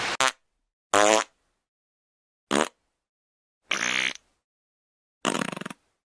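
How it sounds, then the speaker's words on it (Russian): Fart sounds in a comedy cat clip, five short separate bursts, each a buzzy sputter with silence between them, loud and close. "Пукает кто-то."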